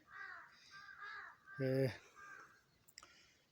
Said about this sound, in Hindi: अब तो यहाँ पर खासे परिंदे हैं